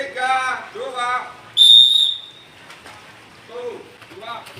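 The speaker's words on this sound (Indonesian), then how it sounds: "Hitungan ketiga peluit" A single shrill whistle blast signals swimmers at a swimming lesson, loud and held for about half a second, with an instructor's voice talking before and after it.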